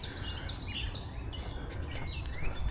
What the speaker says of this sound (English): It's a no music kind of day because we got the birds singing.